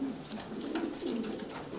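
A pigeon coos repeatedly, low soft rolling calls in a steady rhythm, close by with faint background noise.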